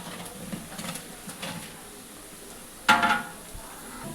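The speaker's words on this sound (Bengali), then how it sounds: "বেরেস্তাটা মাঝে মাঝে একটু নেড়ে দিতে হবে" Onions for beresta frying in a pan for a wedding-style chicken roast, with soft sizzling and faint scraping stirs, then a brief louder clatter of the utensil against the pan near the end.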